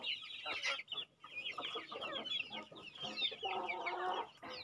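A flock of native chickens clucks and chatters continuously at close range, overlapping calls rising and falling while they wait to be fed.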